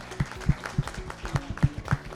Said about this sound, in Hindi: सभी लोगों के लिए एक बार जोरदार तालियां हो जाएं।